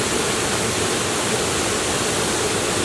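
Kima Atas waterfall near Manado, a dense, even roar of falling water, loud and constant throughout with no other sounds.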